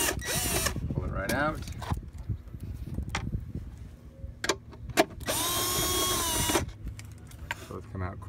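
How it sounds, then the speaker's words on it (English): A cordless power drill spins out 12 mm bolts on a jet boat's steering nozzle in bursts of loud whirring, with ratcheting clicks and metallic clanks between runs while someone speaks briefly. "use your power drill."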